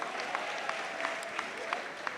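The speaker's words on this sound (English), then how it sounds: "Is somebody clapping in this hall?" Scattered clapping rings through a hall during a stage play, a faint steady patter of hands with a few sharper claps spaced at regular intervals, distant and without speech.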